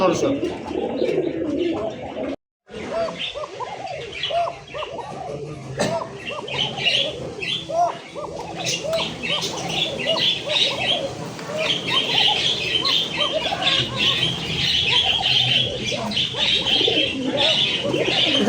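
Many pigeons coo steadily at a pigeon farm, a dense chorus of murmuring calls with occasional wing flaps and squawks, close and continuous, broken by one brief gap, while someone talks over it.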